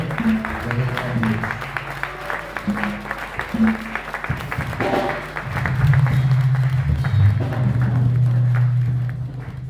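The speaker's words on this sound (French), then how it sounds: "Sous nos applaudissements, j'appelle le nom de Dieu" Audience at a conference of servants of God claps together in a loud, sustained burst that swells in the second half, with voices and other sounds mixed in throughout.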